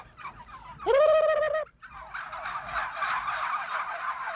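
Turkeys on an open range around Cuero, Texas, give a loud, close rattling gobble, followed by a chorus of overlapping gobbles and clucks from the flock.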